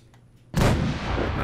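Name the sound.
artillery firing and explosions in Fallout 4 video game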